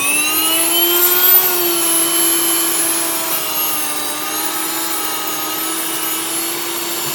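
Grain mill grinding millet or sorghum very fine into gluten-free flour, a steady loud whirring motor drone that holds without pause, with no talk over it.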